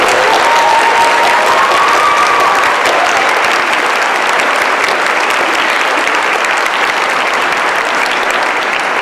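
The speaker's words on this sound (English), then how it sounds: "So let's give them all a round of applause." Loud, sustained applause from a large crowd at the Rockville High School graduation in Vernon, Connecticut, in 2015: many hands clapping in a dense, unbroken roar that stays strong throughout.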